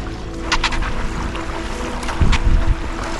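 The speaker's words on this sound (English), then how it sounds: "In case you're wondering what it's like to try to paddle up here at max ebb, this is it." Paddling a board up the Makah Waterway against a strong ebb tide current, with steady wind buffeting and water rushing past, plus a few close paddle splashes.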